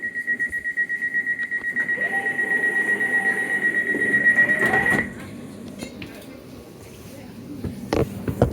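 A London Overground train running from Chingford toward Liverpool Street hums and rattles along the track, with a steady high whine that cuts out midway, followed by quieter rolling clatter and a few knocks.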